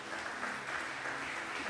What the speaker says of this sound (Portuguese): Se você crê, aplaude ao Senhor bem forte.